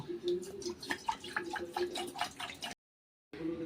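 Water splashes and drips into a cooking pot on a gas stove for making Kolkata rasgulla, a steady pouring patter close by that cuts off abruptly, with a brief silence before it resumes.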